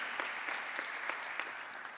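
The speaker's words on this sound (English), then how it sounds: "a round of applause for Elena especially" Audience applause at an island innovation conference, a steady dense clapping from a sizeable crowd with a few sharper individual claps rising above it, heard from a moderate distance without speech.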